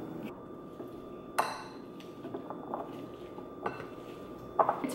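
Beans being mashed in a bowl, with a soft squishing bed broken by a few sharp metallic clinks and taps of the utensil against the dish, close and with no talk.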